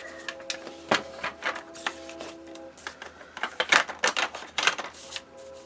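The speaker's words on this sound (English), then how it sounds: "we're going to score at a 1/2 inch on both sides of each one of these" Paper being scored at half-inch marks on a scoring board for a mini album page, a run of sharp scraping strokes and taps, close and moderately loud, with faint background hum.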